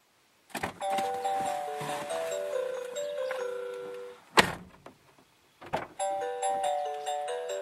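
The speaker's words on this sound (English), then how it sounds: "So you've heard the chime to remind you." A backseat baby alarm reminder chime in a car: a sequence of bright electronic melodic tones plays, then a brief clunk, then the tones start again, close and clear with no talking.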